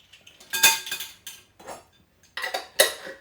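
A metal teaspoon clinks against a jar and bowl while scooping two spoonfuls of Dijon mustard for a tuna salad dressing, giving several bright, close taps in two separate bursts with short gaps between.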